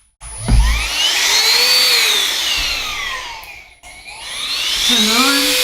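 An XREXS portable handheld rechargeable car vacuum switches on with a thump and runs as a loud, high-pitched whine, its pitch rising and falling as the load changes, with a brief dip partway through.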